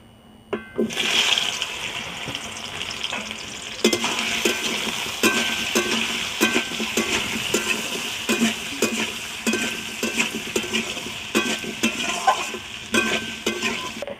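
Boiled amla tipped into a hot kadai with bay leaf and dried chilli, giving a loud, steady sizzle and frying hiss with repeated stirring scrapes throughout, no voices.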